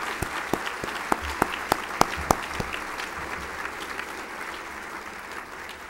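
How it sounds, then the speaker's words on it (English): Applause from the audience at a 2012 regional assembly and leadership awards event, a dense, fairly faint wash of clapping with a few sharper individual claps standing out early, then settling into a steady, even patter. "Please join me in applauding their contributions to MARC over the years"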